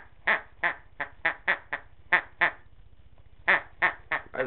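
A toy duck gives about a dozen short, rasping squawks in an uneven rhythm, close and fairly loud, over a low buzzing hum.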